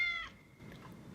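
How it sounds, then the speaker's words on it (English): Single high-pitched cat meow from the film Uncle Buck, short and clear at the start, fading into faint room noise. "That's not their cat, is it?"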